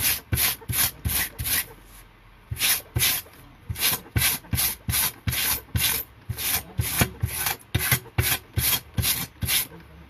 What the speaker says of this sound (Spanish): pasar el alambre de un lado al otro en todas las direcciones sin tener que romperlo